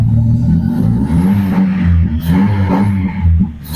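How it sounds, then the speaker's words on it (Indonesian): A car engine with a faulty MAP sensor revs loudly and close, holding a throbbing, pulsing rumble as it repeatedly hits a 3000 rpm limiter. "Di 3000 rpm dia langsung limit"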